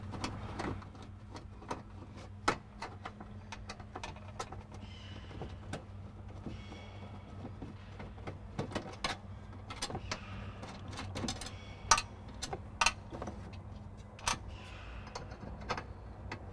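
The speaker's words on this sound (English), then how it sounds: "It's best to use a little shorty Phillips to get to them inside here." A short Phillips screwdriver turns out the glove box screws of a 1955-1956 Chevy, making faint scattered clicks and small metallic ticks against a low steady hum, with no talking.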